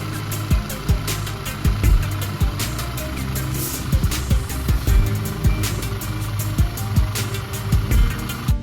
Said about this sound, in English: wait for a couple of minutes until the engine heats up and the radiator fan starts spinning